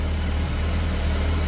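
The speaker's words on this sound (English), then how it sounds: "Cooling fan is just kicked in." A Suzuki Bandit 1250S engine idles hot with its cooling fan running, a steady low rumble and a constant whooshing fan, close and even throughout.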